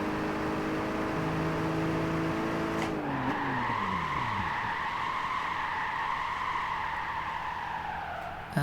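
Tires on a car in Gran Turismo 5 skid and squeal under hard braking, a loud sustained screech that sweeps as the engine note drops away, then settles into a steady wailing squeal before ending.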